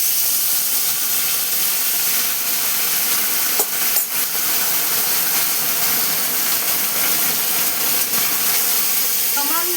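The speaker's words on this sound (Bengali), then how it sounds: "এবার আমি এতে সামান্য গরম জল দিয়ে নিচ্ছি।" Hot water hits vegetables and lentils frying in a pot, giving a loud, continuous hiss and sizzle with steam and a couple of faint knocks of a utensil against the pot.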